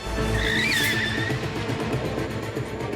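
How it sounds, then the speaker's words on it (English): Car tires squeal on a race track approaching a corner, a rising and falling screech over the steady roar of an engine. "There's a bit of screeching going on."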